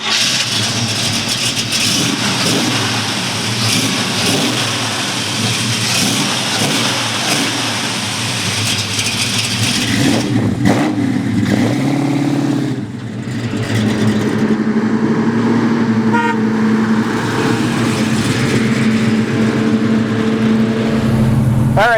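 A 1970 Chevy El Camino with a big block V8 and four-speed rumbles loudly up close, settling from a rough, revving run into a steady idle hum with no talking.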